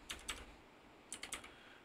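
Keys on a computer keyboard clack in two quick, faint bursts of a few strokes each, with a short pause between.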